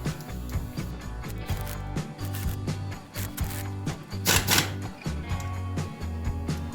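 A hand ratchet tightens bolts while a front wheel drive axle is being replaced, giving repeated close, uneven bursts of clicking and metallic rasping with short pauses between strokes and no talking.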